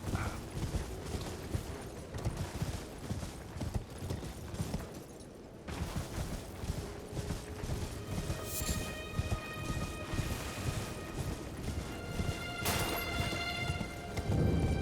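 Horse hooves in Elden Ring, a steady rhythmic clip-clop of a mount moving over ground, continuous and fairly close amid rain-like ambient game noise, with a brief lull midway.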